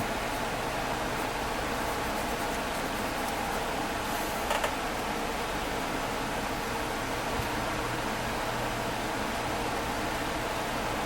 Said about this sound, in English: If it's coming through, that is my fan.